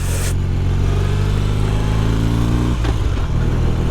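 A 1972 BMW R60/5 motorcycle engine runs loud and steady up close, then dips briefly as it shifts into third gear and pulls on again with a continuous droning hum.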